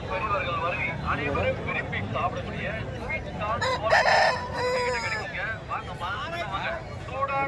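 Fighting roosters crow amid the steady bustle of a large rooster market in Kundarapalli, with people talking nearby throughout and several overlapping calls standing out from the crowd noise.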